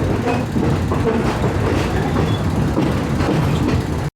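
An ordinary Thai passenger train, service 445 from Surat Thani towards Hat Yai, rumbles steadily with rhythmic wheel clatter and faint metallic squeals, loud and continuous throughout.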